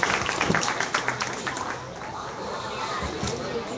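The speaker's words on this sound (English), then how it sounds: "Let's give these two individuals a very nice round of applause for an excellent class of crossbred gilts" Applause for the crossbred gilt class at a county fair swine show, a broad wash of clapping from the crowd around the ring that rolls steadily and eases slightly midway, with murmured voices mixed in.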